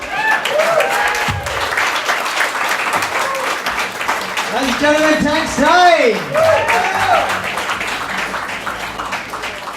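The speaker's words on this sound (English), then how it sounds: "Let's keep a round of applause up." Comedy club audience at a comedy finals night clapping and cheering loudly and steadily throughout, with a voice announcing over the crowd noise.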